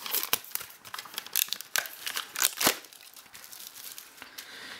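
Plastic shrink-wrap foil crinkles and tears as it is pulled off a CD from a rap fanbox, with close, busy crackling bursts that thin out toward the end, no talking.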